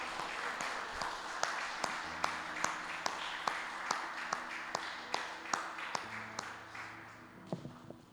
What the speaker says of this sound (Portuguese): vamos dar uma salva de palmas a esse Jesus.